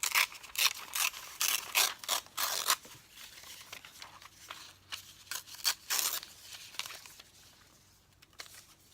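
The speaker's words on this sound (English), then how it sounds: "So just tear out a little bit of that graph paper." Graph paper is torn by hand in a series of short, sharp rips that come close together at first and then more sparsely, each one crisp and near.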